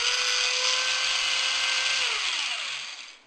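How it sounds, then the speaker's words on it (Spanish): A small DC electric motor with a gear reducer, powered from a bench supply, gives a steady, loud whine for about three seconds and then winds down as it stops. "Este es un motor de corriente continua."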